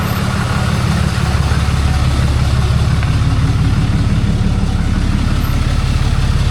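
LVSR HEMTT military truck engine running after fuel is added, a loud, close, steady low diesel idle with an even rhythmic throb throughout.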